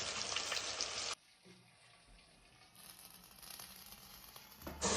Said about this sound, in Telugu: ఇప్పుడు టమాటాలు ఫ్రై అవుతున్నాయండి.